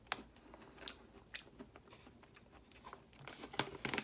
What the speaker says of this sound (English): So I'm going to eat this. It has chocolate on it.